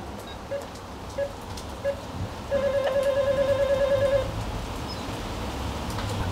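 An apartment building door intercom rings outdoors with a few short beeps, then a sustained warbling buzz lasting under two seconds, over steady street background noise.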